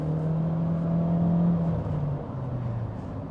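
A Chery Omoda 5 with a 1500 cc turbo engine accelerates, heard from inside as a steady whirring hum that rises slightly and then settles lower as the car picks up speed.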